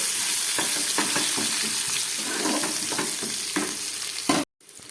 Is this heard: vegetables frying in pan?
yes